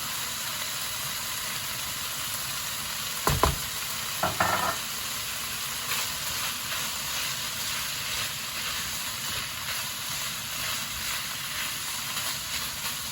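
Spring onion greens and green chili sauté in a pan with a steady, moderate hiss, a couple of brief clattering stirs early on, then an even sizzle that carries on alone.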